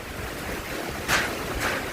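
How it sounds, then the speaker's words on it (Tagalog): Strong typhoon wind roars as a broad, steady rush, swelling into two brief louder gusts near the end, with no voices. "Murag na aeroplano mo agi. Ya, mutaghoy ang hangin guys."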